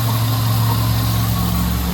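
A Honda Accord engine idles steadily up close, a smooth low rumble with a constant hum and no talking.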